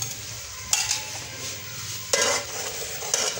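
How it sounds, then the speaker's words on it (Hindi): Food fried golden brown in oil in a pot while cooking degi qorma, with a steady sizzle and bursts of stirring and scraping as pieces are lifted out. "हमने इसको फ्राई कर लिया अच्छे तरीके से, ये गोल्डन ब्राउन हो गया"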